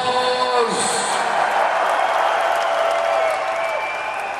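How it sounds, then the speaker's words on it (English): A large concert crowd at a show applauds and cheers, a loud, continuous roar of clapping with some shouting and a lingering tone underneath. "give yourself a round of applause"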